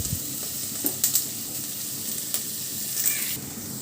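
Carrots, green chillies and other vegetables fry in oil for atukula upma, giving a continuous close sizzle broken by a few sharp clicks and spatters from stirring. No one speaks.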